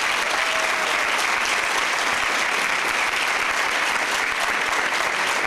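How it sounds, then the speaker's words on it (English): A large audience at a talk on the presidency and race applauds steadily and loudly, sustained clapping without a break and no talk over it. "Let us applaud her for that."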